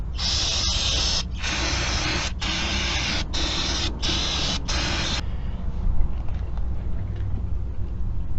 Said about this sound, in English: Let's get this thing sprayed out.